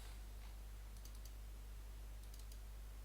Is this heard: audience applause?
no